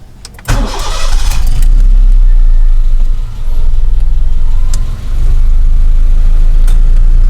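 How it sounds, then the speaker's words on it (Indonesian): An automatic car's engine cranks and starts, then settles into a loud, steady idle up close while warming up, with no talk over it. "Oke, ini kan mobil udah nyala ya."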